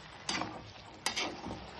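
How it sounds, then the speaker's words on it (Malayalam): Leafy greens cooking down in a pan are stirred, giving two quiet scraping sweeps over a faint steady sizzle, close but soft, with no voices. "എന്നിട്ട് നമ്മളത് ഒന്നും കൂടി നന്നായിട്ട് ഇളക്കാം."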